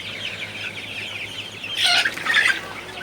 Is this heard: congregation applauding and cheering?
no